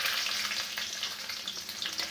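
Garlic sizzling in hot mustard oil with dried red chilli, cumin and nigella seeds, a bright continuous crackle with small spits and pops, close and fairly quiet, no talking.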